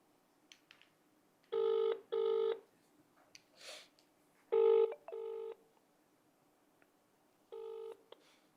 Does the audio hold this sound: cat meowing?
no